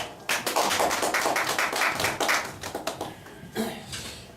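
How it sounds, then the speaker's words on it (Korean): A church congregation claps to welcome a pastor, a burst of dense hand claps starting abruptly and thinning out into scattered claps toward the end. "박수로 모시겠습니다"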